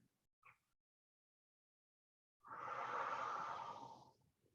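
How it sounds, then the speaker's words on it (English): Single slow, deep exhalation during restorative yoga, soft and close, rising smoothly and fading after a long quiet pause, preceded by a faint brief intake of breath. "Take a couple breaths here."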